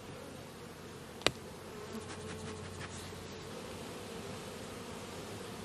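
Honey bees buzz in a steady, even drone around open hive boxes during a honey harvest, with one sharp close knock partway through and faint higher whines from bees passing near.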